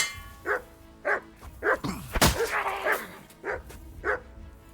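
Dog in Kingdom Come Deliverance 2 barks in a series of sharp, evenly spaced yaps, close and loud, with a brief clash of other game sounds midway.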